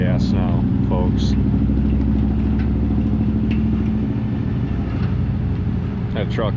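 A 1995 Ford F350 crew cab long box 4x4 with a fuel-injected 460 big block V8 and five-speed, towing a boat trailer, drones steadily under throttle with a low, even rumble while people talk over it.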